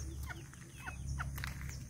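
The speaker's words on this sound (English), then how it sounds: "This is the smallest rooster I've ever seen." Faint, scattered clucks from a miniature rooster, a few short calls over a steady low background hum, no talking.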